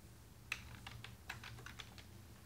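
Keys clatter on a computer keyboard as a web address is typed, a steady run of a dozen or so crisp, close keystrokes at a moderate pace with no voices.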